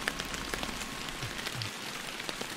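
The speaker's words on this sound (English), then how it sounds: "Fucking noise of the rain is driving me nuts." Steady rain patters on surfaces at Emerald Lake, New York, in the fishing game Fishing Planet, a constant soft hiss with scattered distinct drops and no speech.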